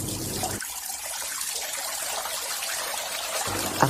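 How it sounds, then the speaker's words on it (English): Tap water runs steadily for hand washing, a continuous close hiss of flowing water that lasts about three seconds with no talking. "Running water will be better."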